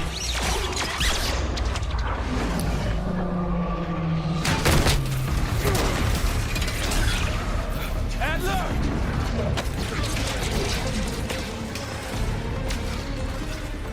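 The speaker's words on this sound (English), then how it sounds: "Marshall boosts us up the elevator shaft, but just when we think we are home free, it explodes" An elevator shaft explodes in Call of Duty Black Ops 6, giving a loud booming crash with creaking metal and clattering debris over a dense, continuous game mix, with voices heard in the background.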